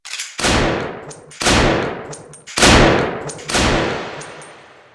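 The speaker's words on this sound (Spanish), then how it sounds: "la gente del barrio, acostumbrada al ruido de los disparos" Four loud gunshots ring out at roughly one-second intervals, each with a sharp crack and an echoing tail.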